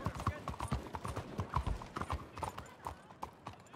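A fast horse galloping in the video game Red Dead Online, hoof beats pounding in a rapid, even rhythm close by, while someone speaks over the hooves.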